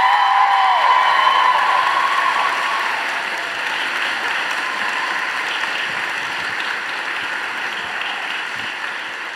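An audience at a book event for Tamora Pierce applauds and cheers, a loud, dense wash of clapping with a voice or whistle rising early, sustained throughout and slowly easing.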